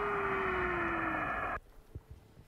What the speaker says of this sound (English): That whistling sound?